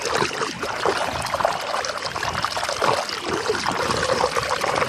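Water trickles and gurgles past a clogged pipe beneath a small bridge along a hiking trail, a steady, close, bubbling flow with no talk over it.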